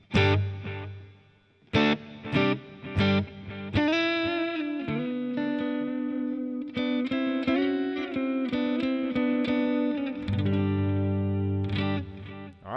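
Distorted electric guitar chords and single notes through a Headrush amp-modeling rig's delay effect, repeating echoes trailing each phrase, the repeats sustaining and overlapping into a washy tail.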